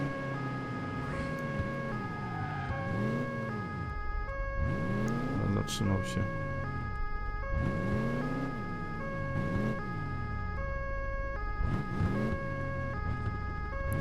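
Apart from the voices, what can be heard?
ambulance siren in video game Crash Time 3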